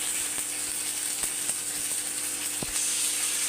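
Tomato paste sizzling in a frying pan, a steady hiss with a high whine running through it, broken by occasional sharp clicks and one stronger knock from utensils against the pan.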